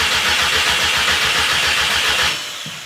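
A VW MK6 GTI engine cranks without catching, a loud rapid rhythmic churning of the starter for about two seconds before it cuts off.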